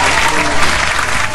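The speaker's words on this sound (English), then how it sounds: "Insert clap sound" A steady burst of clapping applause from a group fills the moment, loud and continuous for just over a second.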